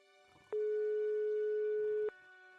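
A steady electronic phone tone from the video game Broken Sword 5 sounds as a single sustained beep of about one and a half seconds, loud and clean against quiet background murmur.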